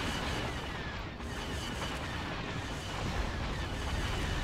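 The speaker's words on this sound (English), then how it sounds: "All right, missiles away, boys." Missiles launching in Thrawn's Revenge, a dense continuous rumble of launches and distant booms blending into a steady roar.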